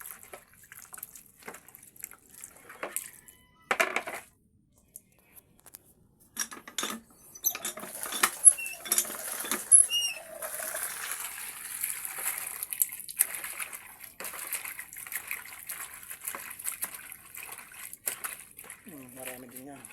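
Herbal plant leaves are rinsed in water, with soft splashes, drips and occasional clinks of a metal bowl or utensil coming in scattered bursts, quiet and close, while someone talks at times.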